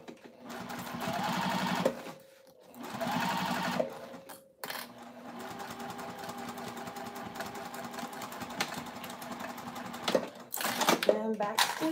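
A sewing machine bastes a pocket seam, running in steady bursts of stitching with short stops between them, close and fairly loud, while a person talks over parts of it.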